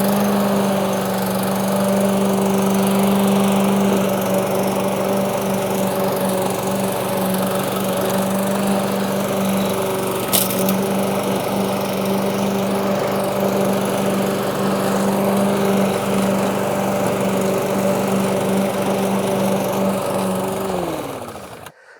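A Webb lawnmower with a swing tip blade system runs steadily, cutting already short grass with its blade set low; a loud, constant engine drone holds throughout before cutting off at the end.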